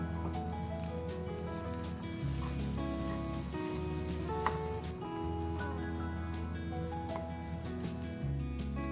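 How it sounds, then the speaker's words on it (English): Onions and rice for crab claw fried rice are stir fried in a hot pan, giving a steady, dense sizzle and crackle that runs unbroken throughout, with a low background hum and no talking. "Stir fry until the onions are fully incorporated with the rice."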